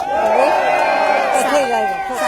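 A crowd at a Sydney rally roars with cheers, whoops and shouted voices, loud and sustained throughout with many overlapping calls.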